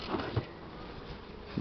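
Honey bees buzz around an opened hive during a mite treatment with Bipin, a low, steady drone with a few closer passes, heard without speech.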